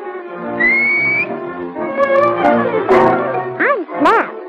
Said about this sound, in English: Sure, they come every morning as soon as I whistle.